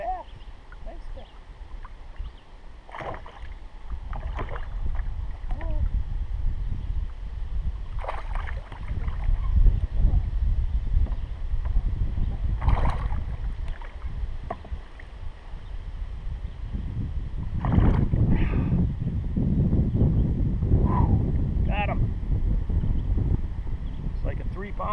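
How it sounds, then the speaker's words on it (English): Wind buffeting a microphone on a boat while bass fishing on Eagle Lake, Minnesota, a steady low rumble with gusts that swell louder midway and near the end, with someone talking intermittently over it. "That wind isn't messing up the sound too bad"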